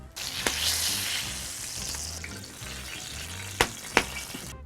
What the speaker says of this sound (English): I'm going to saute 4 medium onions.